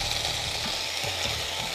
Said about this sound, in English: So we're now going to add the onion and the ginger paste that we had already kept prepared.